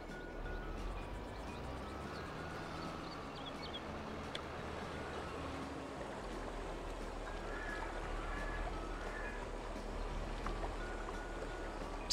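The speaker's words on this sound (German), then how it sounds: "Plätschert." Water splashes and trickles steadily in Farming Simulator 22, a soft continuous burble with faint bird-like chirps and a low hum underneath, fairly quiet throughout.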